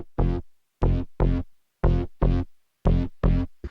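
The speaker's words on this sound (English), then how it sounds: "I just put this really simple bass that's from Serum and Flex." A simple synth bass patch built in Serum and Flex plays short, punchy notes in a broken rhythm, seven hits with gaps of silence between them, loud and alone.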